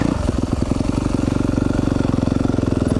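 A 2020 Yamaha YZ250FX dirt bike rides over rocks, its engine a loud, close, rapid steady thrum with a fast pulsing beat throughout.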